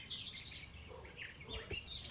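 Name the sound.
birds chirping outside a house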